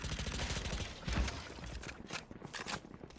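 Gunfire in the video game Valorant crackles in rapid bursts, a dense fusillade of shots with some distant and some closer, fairly faint under the game's background sounds.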